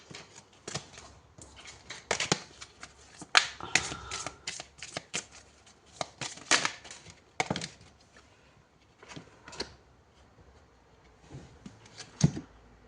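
Tarot cards shuffled by hand in a series of crisp, riffling bursts with short pauses between, close and fairly quiet, with no talking over them.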